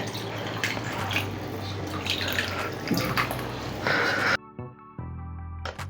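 Crushed-crab water splashes and trickles steadily into a pot of crab curry for several seconds, then stops abruptly, leaving quieter kitchen sounds.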